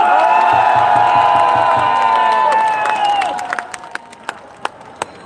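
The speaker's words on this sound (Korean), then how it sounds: "여러분 뜨거운 박수 부탁드리겠습니다" A crowd at an outdoor political rally in Gwanghwamun Square, Seoul, bursts into loud applause with whoops, then the clapping thins out into a few scattered claps.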